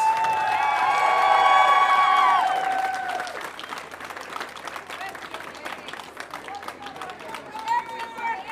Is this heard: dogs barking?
no